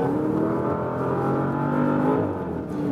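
A Porsche Panamera Turbo S Hybrid accelerating hard on a racetrack, its engine holding a loud, steady rising drone with a hybrid whir, close and continuous for the whole stretch.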